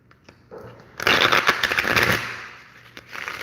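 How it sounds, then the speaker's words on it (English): Tarot cards being shuffled, a dense crackling riffle that lasts about a second and a half, close and fairly loud, followed by quieter handling. "let me just shuffle"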